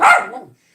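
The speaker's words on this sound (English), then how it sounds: "sorry for the noisy dog" A single short, sharp dog bark nearby, loud at the start and then quickly fading into silence.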